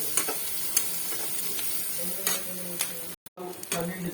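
Onions, green chillies and curry leaves frying in oil for a prawn curry, a steady close sizzle with occasional clinks and scrapes of a spoon stirring the pan, plus a short break in sound near the end.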